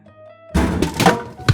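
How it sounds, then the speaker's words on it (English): A toy capsule drops inside a coin-operated vending machine, landing with a loud, close thud followed by a brief rattle and a second smaller knock. "this landed with a thud"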